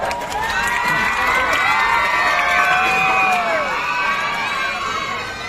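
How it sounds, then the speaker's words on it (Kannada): A crowd of spectators at a village kabaddi match cheers, whoops and shouts continuously at loud volume, with children's voices and some applause mixed into the din throughout. "ಇವತ್ತು ಪಂದ್ಯಾವಳಿ ವೀಕ್ಷಣೆ ಮಾಡ್ಲಿಕ್ಕೆ ಬಂದ ಎಲ್ಲ ನನ್ನ ತಾಯಂದ್ರಿಗೆ ಸಹಿತ ಒಂದು ಜೋರ ಚಪ್ಪಾಳೆ ಬರಬೇಕು"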